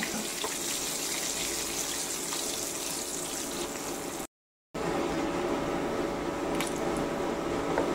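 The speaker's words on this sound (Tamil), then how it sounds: "ஆயிலில் கொஞ்சம் கொஞ்சமாக சேர்த்தி நல்லா பொறிச்சு எடுத்துக்கோங்க" Batter-coated pieces deep-fry in hot oil, giving a steady, loud, hissing sizzle and bubbling that runs continuously, broken only by a brief silent gap partway through.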